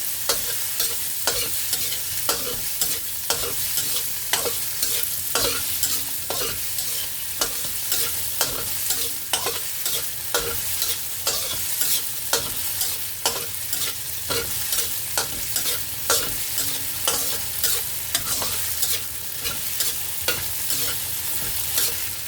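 Tofu and mushrooms stir-fried in a pan for vegetarian fried rice: steady loud sizzling with constant scraping and stirring strokes of a utensil, close up, running throughout without speech.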